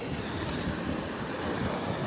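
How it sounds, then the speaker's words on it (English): Wind gusting across a beach where sea glass washes up, a loud, steady broadband rush buffeting the microphone with surf mixed in, no voices. "It's a little windy out here today."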